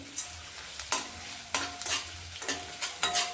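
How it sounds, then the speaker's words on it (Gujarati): Edible gum frying in hot ghee, stirred in a pan with a metal spoon: steady sizzling broken by regular scraping strokes about every half second, close and without talk. "હવે આપણે ઘી ગરમ થઈ ગયું છે એટલે આપણે હવે એમાં નાખીશું ગુંદર થોડું।"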